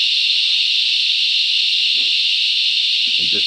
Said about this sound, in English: with my earmuffs on because the cicadas are ridiculous